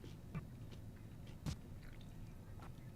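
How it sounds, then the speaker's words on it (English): Food being chewed and crunched close to the mic during a casual Splatoon 3 gaming stream, with a few brief louder crunches over low background noise. "Or is it because I'm crunching my food?"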